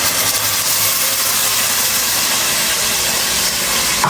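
Tomato paste sizzling in a hot pan, with a loud, steady, close hiss of steam that stays broad and even from start to finish.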